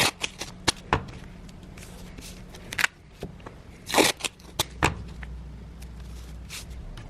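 Tape being pulled and wrapped around a knife blade after it comes out of a metal clamp, a run of sharp crackling rips and soft handling clicks up close, with a steady low hum beneath.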